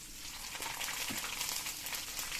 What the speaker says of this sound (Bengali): আদা রসুনটা একটু মেরে নেবো যাতে আদা রসুনের কাঁচা গন্ধটা চলে যায়